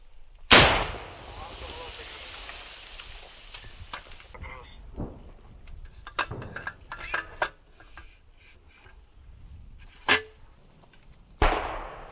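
A sharp, loud L119 howitzer shot opens the clip, followed by a lingering rumble, scattered clatter and distant thumps, with another sharp crack near the end.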